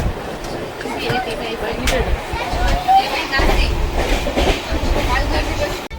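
A train rumbles along with rhythmic clattering of wheels over the tracks, a loud, continuous rolling sound with faint voices in the background.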